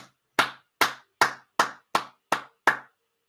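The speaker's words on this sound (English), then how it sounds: "Let's give him a round of applause. Big round of applause." Seven sharp, evenly spaced hand claps ring out alone at close range, each crisp and separate with a short decay, forming a steady deliberate rhythm rather than crowd applause at a live show.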